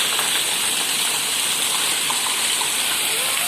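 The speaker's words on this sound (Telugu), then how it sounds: "స్లోగా పోతున్నాయి అక్కడ నీళ్ళు" Rainwater gushes and flows through a flooded street in a loud, steady, hissing rush that never lets up.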